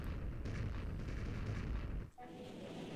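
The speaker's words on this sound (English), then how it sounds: "So now we have Dreadnaught's colossal cannons." Dreadnaught's colossal cannons firing in Super Mario Galaxy's Battle Rock-style level, a loud continuous rumbling barrage of booms that cuts out briefly near the end before resuming.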